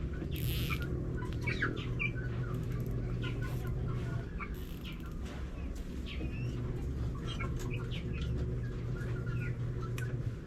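Chicks chirp in a cage: a steady chorus of thin, high peeps and occasional clucks goes on throughout over a constant low background hum.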